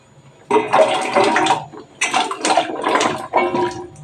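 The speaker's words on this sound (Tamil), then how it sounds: "நான் இப்போ வந்து வெட்டி வச்சிருக்கிற மரவள்ளி கிழங்கு இதில் போட்டுடலாம்" Cut tapioca (cassava) pieces drop and splash into a pot holding about two small vessels of water, a series of loud, close splashy bursts in three or four clustered bouts.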